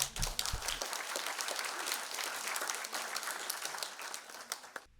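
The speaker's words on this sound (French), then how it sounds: "Ils récitent plusieurs poèmes chinois, sous les applaudissements nourris de l'auditoire" Hearty audience applause after children recite Chinese poems at a poetry contest award ceremony, dense sustained clapping from a sizable crowd, fairly distant and soft, fading at the end.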